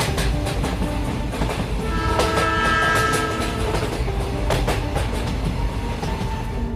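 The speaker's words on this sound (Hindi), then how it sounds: "तभी थोड़ी ही देर बाद इन लोगों की ट्रेन वहां पर आ जाती है।" A train pulls into a station, a loud continuous rumble of wheels and clanking rail cars with rhythmic clicks and a sustained high tone, close and steady throughout, no voices.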